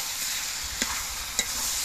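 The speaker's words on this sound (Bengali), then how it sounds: "এবার আমি যে চিকেনটা ম্যারিনেট করে ঢেকে রেখেছিলাম সেই চিকেনটা এর মধ্যে দিয়ে দিচ্ছি।" Marinated chicken going into a hot pan of spices and garlic, a dense continuous sizzle close up with two brief sharper spatters.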